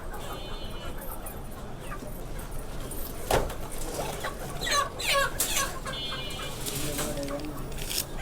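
Chickens cluck at a busy market where poultry is being bought, with short bursts and calls over steady crowd noise and people talking nearby.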